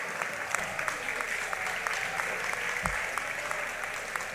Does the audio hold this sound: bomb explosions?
no